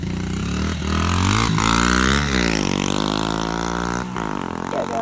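A dirt bike engine revs hard while the rider pops wheelies, a loud, close, continuous roar whose pitch climbs and drops several times over five seconds.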